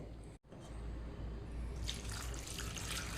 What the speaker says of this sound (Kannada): ಹಾಗೆಯೇ ಬೇಯಲಿಕ್ಕೆ ಬೇಕಾದಷ್ಟು ನೀರನ್ನು ಹಾಕ್ತೇನೆ